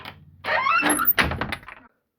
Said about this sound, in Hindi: अचानक दरवाजे का आवाज आता है।